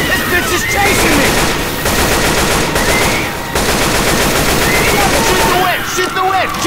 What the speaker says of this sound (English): Shoot the witch! Shoot the witch!